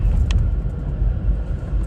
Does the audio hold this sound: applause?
no